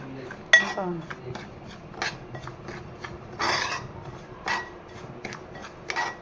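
Semolina (rava) roasting in a pan over low gas, with soft rasping scrapes and light metallic taps of a spoon stirring the grains, quiet and intermittent while a person speaks over it.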